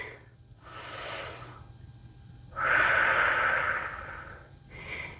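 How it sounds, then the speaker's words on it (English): Slow, deep breaths during a yoga hold: a soft exhale, a quiet pause, then a longer, fuller breath with an audible airy rush, and another beginning at the end, close and unaccompanied. "Take a few rounds of breath here"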